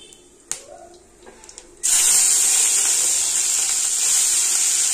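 Prawns tipped into hot oil in a wok with dry chilli and nigella seeds: a few soft clinks, then a sudden loud, sustained hissing sizzle that stays strong and steady.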